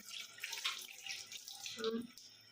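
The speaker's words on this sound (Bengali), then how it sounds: "একটু জল দিয়ে ধুয়ে নিলাম" Water splashes softly from a tap while someone rinses a face, in a quiet indoor setting.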